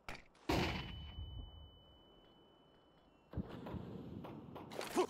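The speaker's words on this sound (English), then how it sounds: "Throw in the flashbang!" A flashbang grenade in Counter-Strike 2 bursts with a sharp, loud bang followed by a long high ringing tone, then gunfire and game noise return in later bursts.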